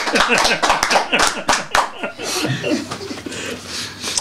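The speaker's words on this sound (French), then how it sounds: "vous attendez quoi pour applaudir?" Audience applause at a French comedy sketch starts as sharp, scattered claps and swells into a denser, steady patter with some laughter, while voices talk over it.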